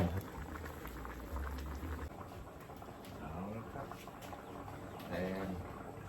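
Thai sour curry (kaeng som) with sea bass bubbling steadily in a pot, a continuous soft boiling patter with occasional pops, heard close with a voice talking over it at moments.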